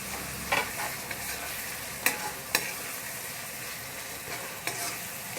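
Finely chopped tomato frying with ginger and garlic on high heat for pav bhaji, a soft steady sizzle broken by several sharp spatula scrapes and taps, close and fairly quiet.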